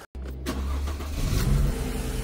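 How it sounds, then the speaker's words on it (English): A Mercedes-Benz W204 engine cranks briefly after a short silence, catches and settles into a steady, close idle with a low rumble that swells slightly toward the end. "I'm gonna jump in the car now and let's start her up."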